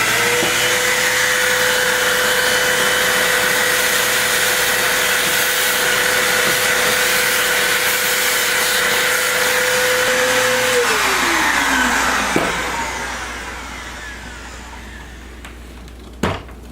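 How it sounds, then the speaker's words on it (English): A vacuum cleaner runs loud and steady close by while tidying up debris from mounting a control panel box on a MAME arcade cabinet, then winds down with a falling whine near the end and leaves a faint hum. "So we're just going to vacuum up our mess here."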